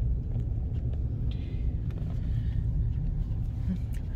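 A vehicle rolls slowly through a lakeside resort campground on a Sunday morning, with a steady low engine and road rumble and light wind noise. Faint voices sound over it.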